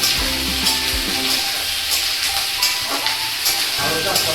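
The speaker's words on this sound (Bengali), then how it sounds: "আদার যে কুচিটা ছিল সেটাও দিয়ে দিলাম। এবার একটু নাড়িয়ে নিতে হবে" Chopped ginger, added with capsicum for chilli chicken, sizzles loudly in hot oil in a pan while being stirred, with steady frying crackle and scraping strokes close by.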